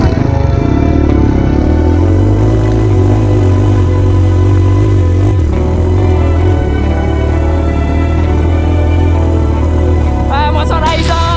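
A trail motorcycle revving hard up a steep climb at Nepal Van Java in Magelang: a loud, close, continuous engine drone that rises and falls with the throttle and stays strong throughout.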